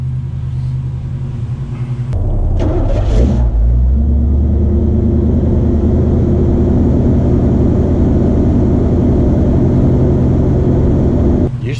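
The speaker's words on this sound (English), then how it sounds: "Usually starts pretty well, but I haven't started it for a while." Cold Chevrolet engine fitted with a 700R4 transmission cranks, catches and settles into a loud, deep, steady idle with a rumbling, slightly uneven throb, recorded close by.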